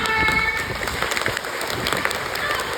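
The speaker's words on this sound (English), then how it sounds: "Everyone, come on, clap your hands. Louder!" Audience at an ocean park marine animal show clapping steadily over background crowd noise and a faint voice, a continuous dense patter lasting the whole moment.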